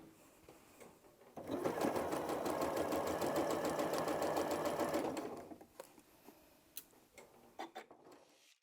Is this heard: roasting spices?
no